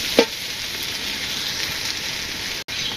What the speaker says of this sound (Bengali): হলুদের গুঁড়া, মরিচের গুঁড়া, ধনিয়া, মশলাটা একটু ভাজি হোক